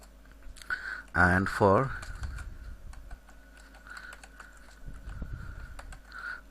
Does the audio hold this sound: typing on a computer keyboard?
yes